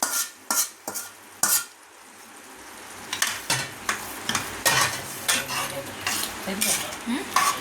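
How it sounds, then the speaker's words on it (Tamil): Tomatoes for a spicy tomato thokku are stirred and sautéed in a pan, with a spoon knocking and scraping the pan in sharp repeated strokes over a low frying sizzle, first in scattered hits and then in a steadier rhythm. "நம்ம இதையும் சேர்த்து நல்லா வதக்கி எடுத்துக்க போகிறோம்"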